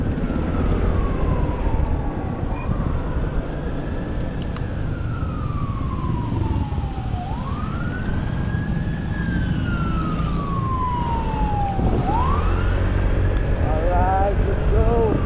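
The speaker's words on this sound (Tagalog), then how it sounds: "O may bumbero, baka may sunog." A loud wailing fire truck siren sweeps slowly up and down several times over a steady rumble of engine and road noise, then speeds into quicker rising whoops.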